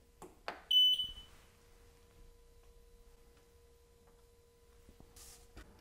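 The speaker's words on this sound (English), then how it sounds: "press the button on the front of the machine. This one right here, it'll beep." A single bright electronic beep from an xTool S1 laser cutter rings out near the start, followed by a steady low hum and a faint click near the end.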